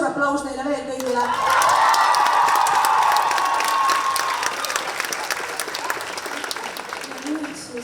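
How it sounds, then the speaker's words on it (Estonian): An audience bursts into loud, sustained clapping and cheering after a band performs at a summer concert, starting after a brief spoken line and slowly tapering off. "Kuulge üks suur aplaus neile veel kõigile."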